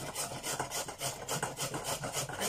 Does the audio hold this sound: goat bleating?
no